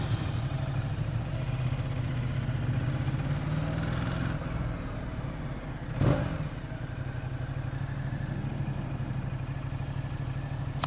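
A Ducati XDiavel S motorcycle with belt drive is ridden slowly, its engine a steady close rumble with wind noise and a brief clunk midway.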